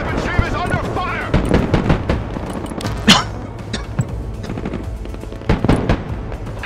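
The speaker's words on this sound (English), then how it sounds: "Heavy weapons team is under fire." Gunfire in the video game Broken Arrow: rapid bursts of shots and sharp cracks with a heavier boom, dense and close, with radio-style voices talking over the battle.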